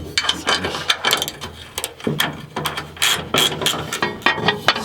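Metal bolt being screwed into a drilled and tapped hole on a homemade iMac wall mount bracket, giving close, repeated ratcheting clicks in uneven bursts with no talking.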